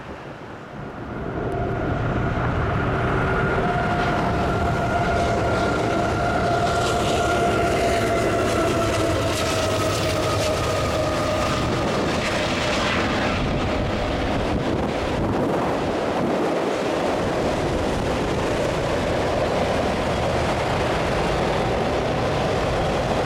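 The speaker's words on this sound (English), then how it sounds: "CSX Q158." CSX Q158 freight train passing with steady heavy rumble and rail noise for the whole stretch, a horn-like tone fading early on, with strong wind buffeting the microphone throughout.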